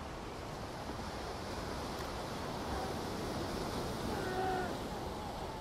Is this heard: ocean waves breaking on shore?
yes